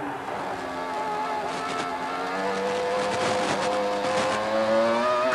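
Formula One cars of the 2000 season launching off the grid and charging into the first corner, a dense pack of howling engines climbing steadily in pitch, loud and unbroken with no voices.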